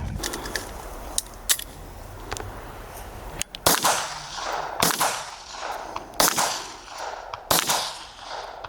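Four sharp gunshot cracks ring out at roughly even intervals during a police practical shooting competition, each trailing off in a short echo, with fainter clicks and taps before them.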